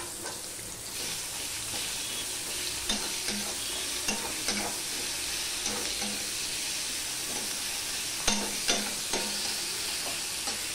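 Large chopped onion sizzling in mustard oil, a steady broad frying hiss throughout with intermittent scraping stirs of a spatula against the pan, no voices.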